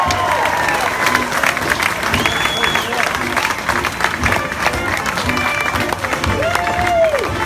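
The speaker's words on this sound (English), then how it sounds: "Give them a round of applause." Crowd applause at an outdoor July 4, 2015 veterans' celebration honoring a veterans color guard: a steady, dense wash of clapping mixed with crowd noise and a few raised voices, sustained for the whole stretch.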